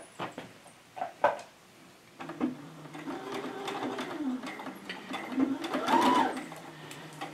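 Sewing machine stitching cloth doll fabric at a quarter-inch seam, its motor whirring in steady bursts at close range, with a few clicks and soft handling sounds between runs.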